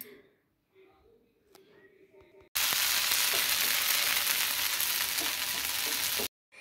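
Saru chakli batter cooks on a tawa and in a frying pan with a loud, steady sizzle that cuts in abruptly and runs several seconds, preceded by quieter kitchen clatter.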